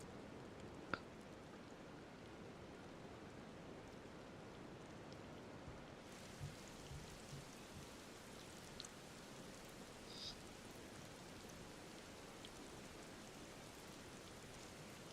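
Steady rain in the Final Fantasy XIV Dawntrail game world, a soft even hiss of falling drops that thickens partway through, with a few faint brighter patters over the constant wash.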